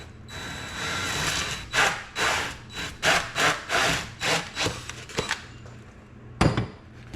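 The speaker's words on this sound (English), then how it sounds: "you got to be real careful on how you're holding your drill" Repeated rough rasping strokes of a power drill bite through soft cardboard in uneven bursts, with a sharper hit near the end, close by and fairly loud.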